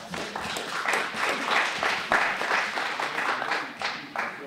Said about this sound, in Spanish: Un aplauso por favor para Martín y Karen